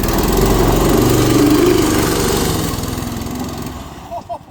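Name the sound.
homemade snow ski kart engine running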